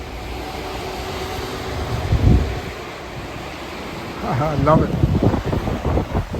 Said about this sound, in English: Wow, look at that wind